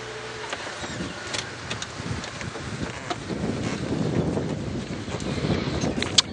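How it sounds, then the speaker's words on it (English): Wind moves through leaves in the early-morning African bush, a steady broadband rustle that swells and thickens toward the end, with a few faint distant bird chirps over it. "The wind is rustling through the leaves."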